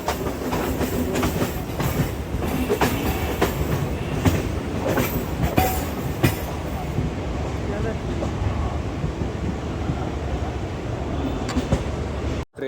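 A Mumbai local train at Churchgate station rumbles steadily throughout, with broadband rail clatter and wind noise close by, a few brief squeals and voices mixed in, cutting off abruptly at the end.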